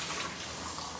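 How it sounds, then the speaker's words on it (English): Catfish pieces being rinsed under a running kitchen tap, a steady close splash of water that continues unbroken throughout. "and rinse that off."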